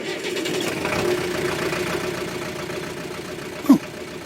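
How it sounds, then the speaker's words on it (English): Car motor starting and then running, a low steady engine rumble throughout with a single sharp thump near the end. "At that moment, Marcel hears a motor start."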